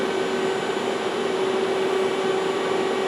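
A welding robot steadily runs through a programmed weave pattern with no arc struck, giving a continuous even mechanical hum with a faint tonal whine, close and unbroken, with no voices.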